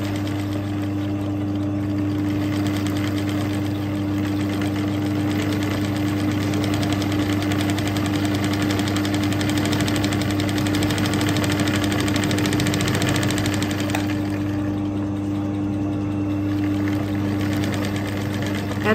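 Embroidery sewing machine stitching a zigzag pattern, a steady mechanical hum with a rapid, even needle rhythm running continuously at close range, with no talking.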